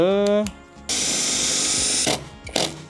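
A power drill drives an ordinary C-channel screw into wood, whirring loudly in a steady run after a brief voice, then stopping in short bursts as speech returns.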